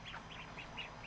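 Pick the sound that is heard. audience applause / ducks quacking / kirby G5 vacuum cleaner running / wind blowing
ducks quacking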